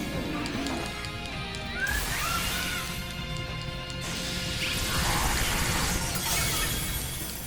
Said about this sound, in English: We can bust his shield right here.